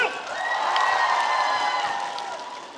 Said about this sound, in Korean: 박대장 팬들 박수와 함성